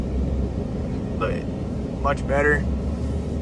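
Steady interior drone of a 2021 Ram 1500 Classic pickup while driving around the block, with a loud air-conditioning fan hiss running under brief speech throughout.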